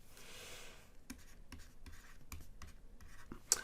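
A pen writes class intervals onto a statistics diagram, making a series of short, scratchy strokes with small pauses between them and one sharper tap near the end. The writing sounds close and moderately quiet.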